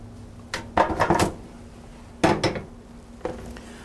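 Metal stove grate and pan clanking onto a kitchen stovetop in a few short bursts, close and fairly loud, with no talking.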